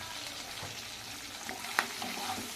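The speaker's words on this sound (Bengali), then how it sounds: "লবণ দিয়ে আমি ক্যাপসিকাম আর পেঁয়াজটাকে ভেজে নিচ্ছি।" Capsicum and onion with salt fry in a pan, making a soft, continuous sizzle with a few faint stirring clicks and one brief sharper tap, all quiet and close.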